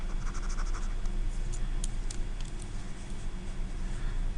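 Erasing on a writing surface gives a soft, continuous scratchy rubbing heard close up, with faint squeaky strokes over a steady low background hum and no talking.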